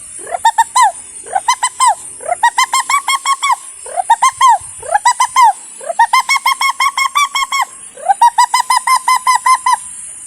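A voice imitates a pigeon's call: repeated bursts of rhythmic, warbling coos in about six phrases, close and loud, with short pauses between.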